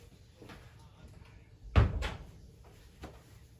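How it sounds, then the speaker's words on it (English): A door is shut in a quiet indoor room. Two sharp, close knocks of the door closing land in quick succession, and a few faint taps follow. "Just shutting that door for the distraction"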